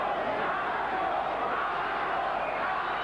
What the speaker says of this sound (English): The crowd yelling macho for Aranda